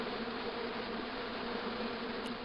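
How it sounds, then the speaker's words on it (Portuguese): Angry hornets buzz from a nest hidden in a bush in the Broken Sword II video game, a steady, dense drone that holds at constant loudness throughout with no talking over it. "As I walked towards the bush, it started buzzing angrily."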